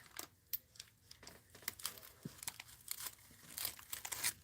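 Packing tape being balled up and crumpled by hand while making a homemade mailbox, giving a run of dry crinkling and crackling bursts at close range with no talking.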